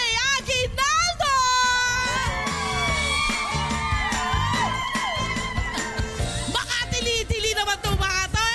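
Audience at a bowling event shrieking, whooping and cheering loudly throughout, with excited high-pitched screams rising and falling over a dense crowd roar.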